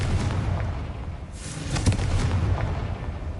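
Confringo spell explosion in Hogwarts Legacy, a loud booming blast with crackling debris over a steady low rumble, one sharp burst standing out in the middle.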